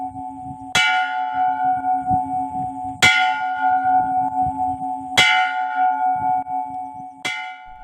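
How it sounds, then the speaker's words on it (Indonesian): A bell made from a bomb casing struck four times at a slow, even pace, each clang ringing out with a long sustained hum between strikes. "lonceng yang biasa dibunyikan untuk memanggil warga beribadah"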